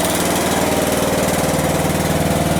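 Westwood T1200 garden tractor engine, just brought out of storage, runs steadily at a loud, constant idle close by, with a rapid chugging pulse and vibration throughout and no voices.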